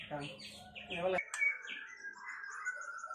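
A white-rumped shama gives a run of bright, whistled chirps and warbling notes at close range, with a brief voice-like sound at the start.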